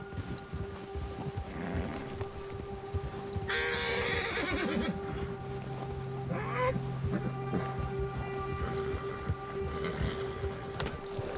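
A horse whinnies in the video game Red Dead Redemption 2 over a steady ambient background, with a long, drawn-out neigh in the middle and hoof-like scuffs scattered around it.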